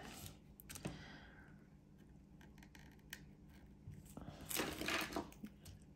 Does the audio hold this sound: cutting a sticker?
yes